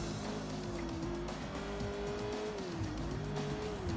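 Race car engine in the video game Sleeping Dogs drones steadily with rising and falling pitch, joined by sustained tire squeal through the turns, loud and continuous with no talking.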